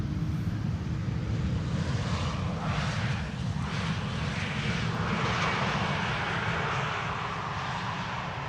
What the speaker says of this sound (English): Iberia arrival from Madrid, flight 731, A320neo